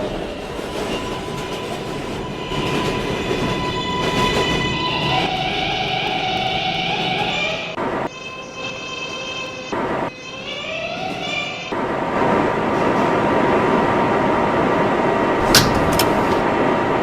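A New York 7 local subway train running toward Kennedy–Main Street: steady loud rumble and clatter of the cars with a rising and falling motor whine, brief drops in the roar and a sharp squeal near the end.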